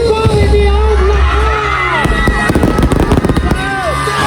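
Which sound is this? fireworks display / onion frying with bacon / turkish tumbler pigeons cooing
fireworks display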